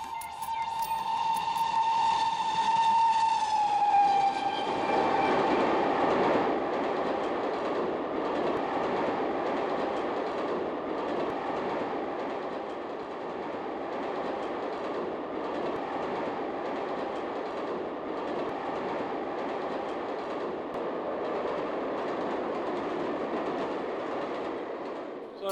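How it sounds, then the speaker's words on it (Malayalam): A train rolls past on railway track, opening with a long steam-style whistle blast, then a loud, steady rumble of wagons and rhythmic clickety-clack that continues close by without talk. "ഈ റെയിൽവേ പാളത്തിലൂടെ എപ്പോഴും ഈ തീവണ്ടി അങ്ങോട്ടും ഇങ്ങോട്ടും ഇങ്ങനെ പൊക്കോണ്ടിരിക്കണോണ്ടേ സാറേ."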